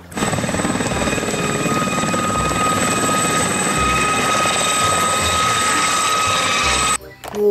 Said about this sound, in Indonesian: Wih, lihat ini, ada helikopter militer.